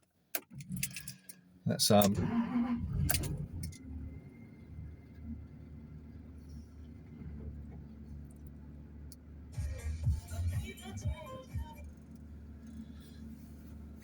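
A Jaguar XK8 being started with its keys: jangling keys and a cranking burst, then the engine settles into a steady low idle, with a person speaking briefly at the start.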